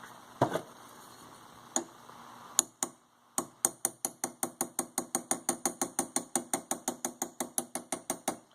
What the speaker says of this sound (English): I'm hammering the rest of this down